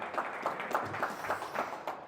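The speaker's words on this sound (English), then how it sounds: "let's have a round of applause for Jason and his service for the country" An audience at a Chicago Propeller Club gathering applauding, a thin run of rhythmic claps from a small crowd, moderately quiet and fairly close, lasting a couple of seconds.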